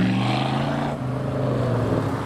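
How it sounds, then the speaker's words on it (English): Engines of a six-speed gated manual Ferrari 550 and a Camaro Z28 convertible pulling away from a business-park roundabout, a steady loud drone with low rumbling tones that shift slightly midway, no talking. "we have the 6-speed gated manual Ferrari 550 with the Camaro Z28 convertible behind"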